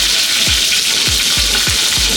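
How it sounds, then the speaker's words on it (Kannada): Mustard seeds, cumin, curry leaves and green chilies sizzle loudly in hot oil for an onion palya, a steady dense frying hiss punctuated by about five sharp low pops and spatters. "ಸಾಸಿವೆ ಜೀರಿಗೆ ಎರಡು ಸಿಗುತ್ತಿದ್ದಂಗೆ ಇದಕ್ಕೆ 2 ಗಡ್ಡೆಯಷ್ಟು ಕರಿಬೇವು ಹಾಗೆ 1-2 ಹಸಿಮೆಣಸಿನಕಾಯಿ"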